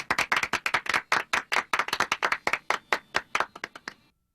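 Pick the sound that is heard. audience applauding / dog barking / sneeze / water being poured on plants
audience applauding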